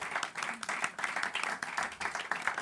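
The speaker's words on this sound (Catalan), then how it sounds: "Demano un fort aplaudiment per calentar una miqueta." A live studio audience at a Catalan podcast recording claps enthusiastically, with uneven, pulsing waves of applause and individual claps standing out in the mix.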